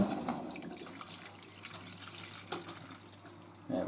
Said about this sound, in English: The water went down the drawer